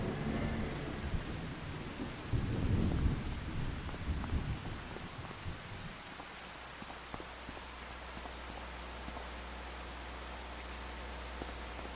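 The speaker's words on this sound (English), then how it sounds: "I know why it's still raining." Steady rain hisses throughout in Farming Simulator 25 while a low thunder rumble swells early on, then fades into a constant low hum.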